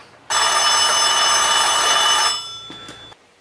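A telephone bell rings loudly and steadily for about two seconds, then drops to a quieter tail with a few faint clicks before it stops, with no talking.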